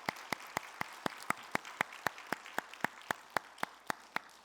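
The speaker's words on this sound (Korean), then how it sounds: "우리 하나님께 감사와 영광의 박수 올려드리겠습니다" A church congregation at a Sunday service claps together in a strong steady rhythm, about four crisp, evenly spaced claps per second ringing through the hall.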